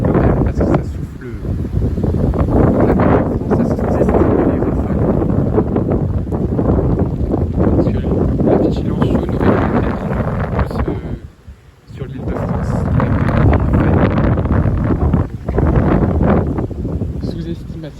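Powerful gale-force wind, gusting to about 80 km/h during a January storm, buffeting the microphone in loud, roaring gusts, briefly dropping off before surging back just as strongly.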